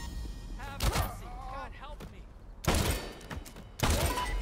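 Bursts of gunfire in the crime video game Crime Boss: Rockay City, three loud broadband volleys spaced across the moment with a voice talking between them.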